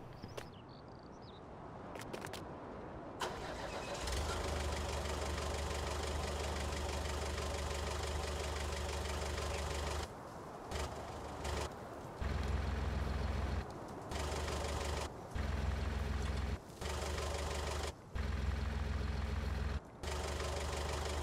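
A forklift engine idles in Farming Simulator 19, a steady low mechanical rumble with a knocking pulse that drops out and restarts in several brief gaps toward the end.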